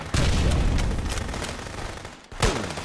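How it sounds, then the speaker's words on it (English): Video game gunfire from a headshot: a loud burst of shots opens, trailing into a rumbling decay, then a second sharp blast near the end, with no talk. "Boom. Headshot."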